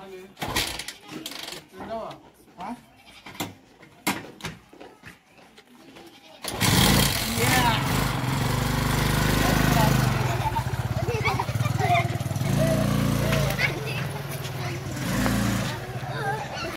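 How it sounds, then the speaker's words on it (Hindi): A TVS XL 100 moped engine starts after a stretch of people talking and handling sounds, then runs with a steady buzzing idle close to the microphone, while voices continue over it. "गाइज आज हम लोग चलाने वाले हैं ये वाली गाड़ी TVS XL 100"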